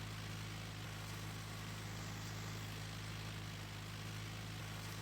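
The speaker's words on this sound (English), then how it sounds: "45 horsepower tractor we got here." A Case 533 45-horsepower tractor engine in Farming Simulator 19 runs as a steady, loud, continuous drone with a low hum, constant throughout and without talk.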